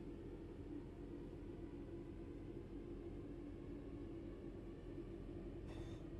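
Continuous low rumble of a train rolling along in the video game Train Sim World 6, steady and even throughout, with a brief faint hiss near the end.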